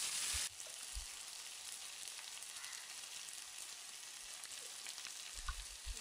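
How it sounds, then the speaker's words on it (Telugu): Tomato pieces stirred and frying in a pan for an egg and prawn curry, a soft steady sizzle with occasional faint spoon knocks, quiet and close. "కరిగి ఉంచుకున్న టమాటా ముక్కలను కూడా అందులో వేసుకొని ఒకసారి బాగా కలుపుకోవాలి"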